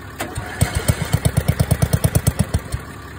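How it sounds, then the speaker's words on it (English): A ride-on mower's engine cranks and catches, firing in a quick even chugging rhythm of loud low pulses for a couple of seconds before sputtering and stalling out. "if you try putting it the full throttle after you start it. I just stalled right out."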